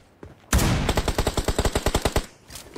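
Rapid automatic gunfire from the video game ESSO: a loud, steady burst of about fifteen evenly spaced shots starting abruptly after a short quiet lead-in, then tailing off into faint background noise, with no talking.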